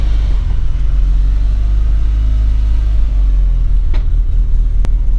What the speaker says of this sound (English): So we're just warming up the car